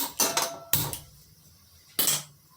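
Metal pots and pans clatter in three sharp bursts with quiet gaps between, close by in a home kitchen as a stove is lit before heating a batch of homemade hair oil.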